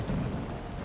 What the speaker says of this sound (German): der Sturm zieht auf